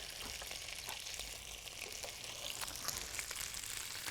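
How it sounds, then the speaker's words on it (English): Flank steak pieces brown in oil in a pan, giving a soft, even sizzle and crackle with faint spattering, quiet and steady without speech. "you're going to brown those on one side"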